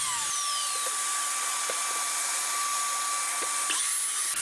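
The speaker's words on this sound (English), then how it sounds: "First, I'm going to cut the timbers down to size." A power tool cuts timbers to size for an acoustic guitar build, giving a continuous high-pitched whine close by with faint ticks in it, and no talking.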